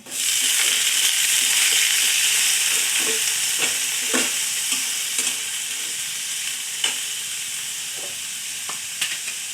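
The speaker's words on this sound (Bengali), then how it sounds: "আমি এখন আলুগুলো ছেড়ে দেব।" Potatoes fry in a pan with a loud, constant hissing sizzle, broken by repeated soft scraping stirs at irregular intervals, and no voices.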